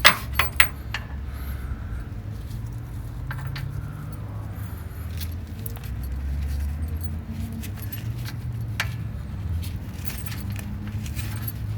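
Keys jangle sharply up close at the start of a 1960s Ford Mustang being started, followed by a steady low rumble that holds for the rest of the stretch without any talking.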